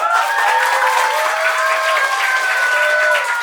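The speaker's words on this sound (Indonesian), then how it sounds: "Tepuk tangan loh." Steady applause from a crowd of children at an English and character camp, continuous and fairly loud throughout, with a few faint tonal sounds running underneath.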